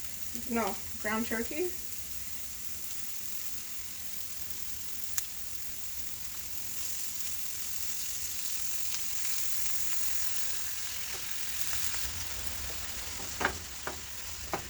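Ground turkey, not fully defrosted, browning with onions in a pot, giving a soft continuous sizzle with occasional spoon knocks and scrapes, with a brief bit of talking at the start.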